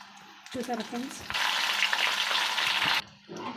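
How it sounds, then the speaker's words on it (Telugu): Tempering spices hit hot oil in a pan for tamarind rasam, setting off a loud, steady sizzle that lasts a couple of seconds after some crackling and stirring, then cuts off abruptly. "మూకుడు పెట్టుకొని ఇప్పుడు నేను వచ్చేసి పోపు వేసుకుంటాను"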